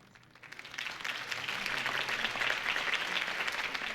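Crowd applause in a Batman video game swells after a quiet start and holds steady, a dense wash of many hands clapping with no talking over it.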